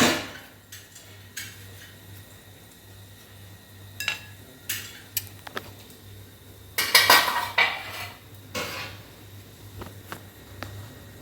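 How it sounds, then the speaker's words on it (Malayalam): Dishes and cutlery being washed in a home kitchen, with scattered metallic clinks and clatters at irregular intervals over a quiet background hum, one brief louder cluster of rattling partway through. "പാത്രം കഴുകുന്നുണ്ട് അതിൻ്റെ ഒച്ചപ്പാടാണത്"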